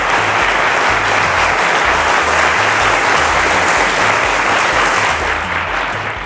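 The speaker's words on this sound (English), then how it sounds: "Ladies and gentlemen, a round of applause to Iyanuoluwa Osewa." Sustained, loud studio audience applause for a teachers' category champion on a televised quiz show, dense and steady throughout before easing slightly at the end.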